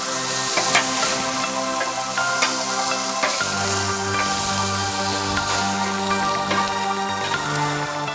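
Greek pork steaks sizzling on a charcoal barbecue, a steady crackling fry heard beneath loud background music throughout, with no talking.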